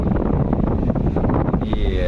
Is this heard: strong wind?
yes